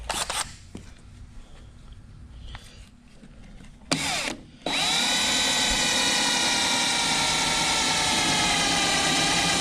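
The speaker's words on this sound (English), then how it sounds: "now let's drill our starter hole." A power drill spins up after quiet moments, a short burst then a loud, steady high-pitched whine that holds to the end.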